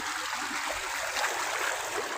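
Steady broadband rushing of water flowing through furrows in a pigeon pea field, continuous and fairly close, with a soft trickling texture throughout and no voices.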